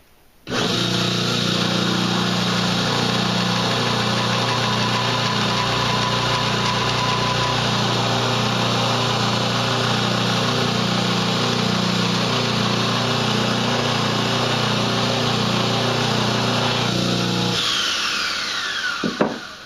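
A Wilmont Little Buddy single-speed belt grinder runs steadily with a loud, close, continuous whine and belt hum, grinding throughout, then winds down at the end; no speech.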